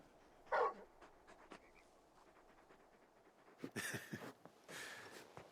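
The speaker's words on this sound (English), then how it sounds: "You're just a big puppy, aren't you? A very big puppy." Large dog companion Torgal in the Final Fantasy XVI video game making brief whimpering and panting noises, a short yelp near the start and breathy rustling bursts later, fairly quiet against game ambience.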